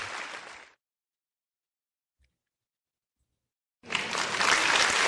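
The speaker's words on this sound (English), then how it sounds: "There, I hear the applause." Two bursts of applause come through a live stream: a short clapping burst at the start, then a few seconds of near silence, then a louder, fuller round of applause that runs to the end.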